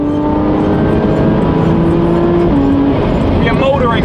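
A car cruises on a motorway on the last stretch of a road trip into Cannes, with a loud, constant engine and road roar and a slight shift in tone partway through.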